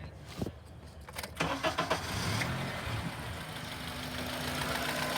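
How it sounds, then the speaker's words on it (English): A car engine being started: a few cranking bursts, then it catches and settles into a steady, moderately loud idle close by. "now I'm going to start the vehicle"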